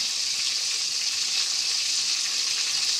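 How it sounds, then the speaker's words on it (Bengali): Pieces of fish frying in a pan of hot oil, a steady dense sizzle that stays close and even throughout without pauses. "মাছ ভাজা হচ্ছে"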